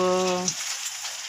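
Vegetables and shredded cabbage hitting a hot pan for pansit give a close, steady sizzle and crackle, with a brief tonal hum fading out early.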